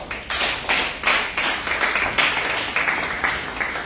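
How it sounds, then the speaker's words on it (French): A church congregation claps in praise of the Lord, loud, steady rhythmic hand claps close by, roughly three claps per second, continuing without pause and with no voices over them. "Acclamons le Seigneur."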